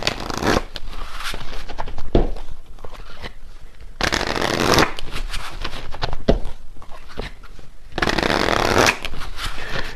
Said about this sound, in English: when I'm shuffling here